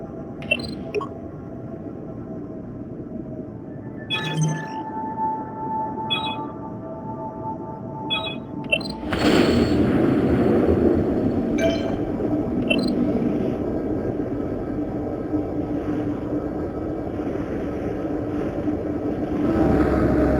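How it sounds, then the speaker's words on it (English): Starship impulse drive engaging in the game Star Trek: Bridge Crew on Oculus Quest 2: a few sparse electronic pings over a low hum, then a sudden deep, broad engine roar that swells and keeps rumbling steadily to the end. "Grab and push your throttle to engage the impulse drive."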